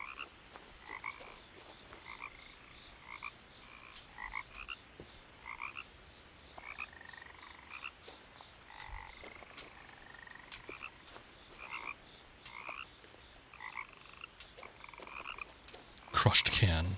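Frogs croaking in the game What Remains of Edith Finch, a steady chorus of repeated short croaks spread across the scene, faint to moderate, with a louder burst of noise at the very end.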